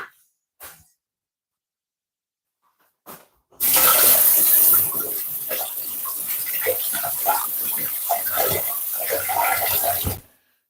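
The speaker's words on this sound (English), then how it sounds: "Next, I'm gonna wash my hand a little bit." Tap water runs steadily into a sink as hands are rinsed after breading prawns and fish, a close splashing rush lasting several seconds after a few brief clicks and knocks.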